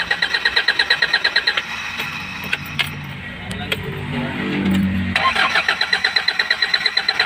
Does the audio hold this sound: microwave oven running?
no